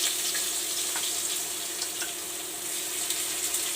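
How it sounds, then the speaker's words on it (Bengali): Chopped onion fries in a pan with a bright, continuous, close sizzle and hiss, with a few small pops breaking through and no one speaking. "পেঁয়াজটা একটু ভেজে নিচ্ছি।"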